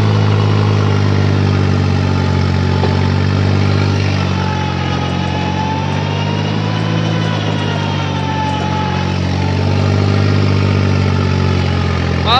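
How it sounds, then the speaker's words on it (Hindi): A 3630 tractor engine pulls in third gear low range, a loud, steady, deep drone that holds its pitch close by throughout, with no voices. "तीसरे की लो में चल रहा है ट्रैक्टर"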